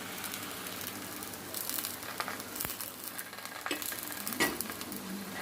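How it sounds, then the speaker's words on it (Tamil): Parotta fries in plenty of hot oil in a pan, a continuous, close sizzle with crackling pops and a few sharper spatters. "நல்லா ஃப்ரை ஆக விடுங்க ஃப்ரெண்ட்ஸ்"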